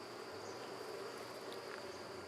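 Honey bees buzz inside a hive, a faint, steady drone that holds evenly throughout without pause.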